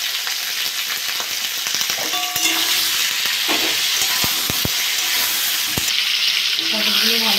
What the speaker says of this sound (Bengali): পটলগুলো ভালো করে ভেজে নেব।